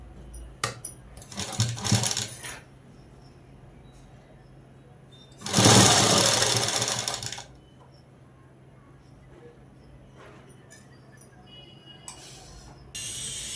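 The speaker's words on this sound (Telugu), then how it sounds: "ఇప్పుడు ఇలా మర్చుకొని అనేది కుట్టు వేసేసుకోవడమే." A sewing machine stitches a dress top in two bursts, a shorter run near the start and a louder, longer run in the middle, with quiet handling clicks and pauses between.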